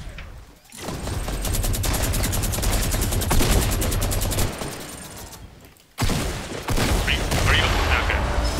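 Sustained rapid minigun fire in a video game, a dense unbroken rattle lasting several seconds, cutting out briefly, then resuming loud and close, with voices talking over it.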